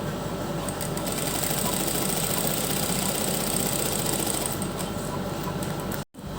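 A sewing machine runs continuously, stitching along the edge of a dress neckline with gota lace trim, a steady mechanical whir heard up close that stops abruptly near the end.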